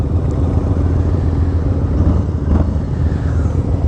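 A 2019 Harley-Davidson Low Rider rumbles steadily on a test ride, with a loud, close, low engine drone and wind noise and no change in pace.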